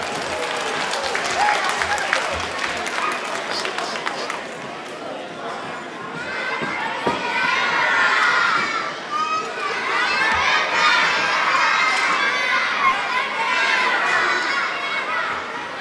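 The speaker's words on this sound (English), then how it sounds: "please give a warm round of applause for Maine's newest magician, Tyler!" A crowd of children and adults at a winter fun day claps and cheers for a young magician named Tyler, with excited shouts and whoops building in waves over sustained applause.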